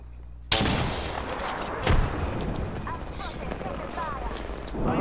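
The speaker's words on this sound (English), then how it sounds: "Bombots are shooting at me" Video-game gunfire from bombots, a sudden loud burst followed by sustained rattling shots and impacts with a heavy thud partway through, while a voice talks over it.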